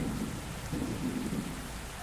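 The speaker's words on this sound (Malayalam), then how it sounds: "മഴ വന്നല്ലോ, മഴ വന്നേ മഴ കൊട മഴ." Game rain from Bus Simulator Indonesia pours steadily, with low rolling thunder rumbling underneath throughout, dense and close.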